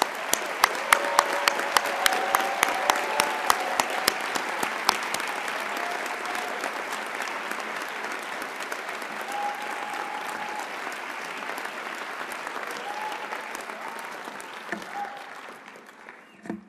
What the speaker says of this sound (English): Let's have a round of applause for the graduates.